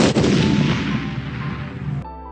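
A Diwali firecracker bomb bursts in a loud, dense blast that stays close and fills the whole clip, its rumbling roar running for about two seconds before cutting off abruptly.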